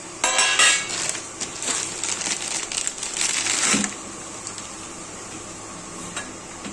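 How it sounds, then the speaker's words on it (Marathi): Jaggery scraped against a grater in quick, gritty strokes, loud for a few seconds before fading to a few quieter scrapes. "हा गूळ किसून घ्यायचा आता"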